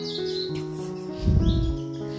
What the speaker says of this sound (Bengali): আর তো ওই পাখির কিচমিচ আসেই লগে।